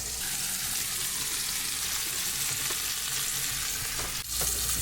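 Snapper fillets frying in a pan in Puerto Rico give off a steady, dense sizzling crackle that fills the whole stretch, with a brief clatter of utensils near the end.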